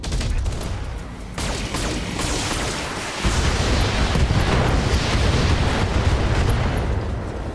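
A BattleTech mech fires all its weapons at once, a loud, dense barrage of booming autocannon and weapon fire rolling continuously with heavier impacts midway.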